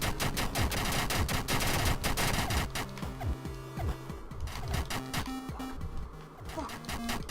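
Dense rapid automatic gunfire in a video game, a continuous rattling barrage that is loud and steady throughout, layered with mechanical clatter and no talking.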